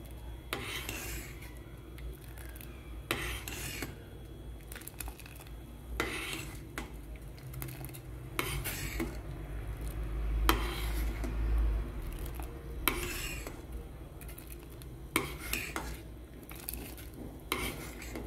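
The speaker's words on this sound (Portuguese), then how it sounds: "Depois de colocado, você começa a mexer o sagu." Sago pearls for a dessert are stirred in a pot with a utensil, producing steady scraping and clinking strokes against the pot that repeat throughout at a moderate level, with no one talking.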